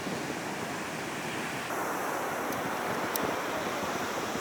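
Strong sea waves crash and wash onto the shore after heavy rain, a dense continuous roar of surf with steady wind noise and no clear breaks.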